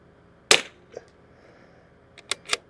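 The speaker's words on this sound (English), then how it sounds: "Go ahead and shoot a group." 22LR rifle shots fired in a group on a range with DPG in-house barrels: three sharp cracks, one alone and then two close together after a pause, with a faint tick in between.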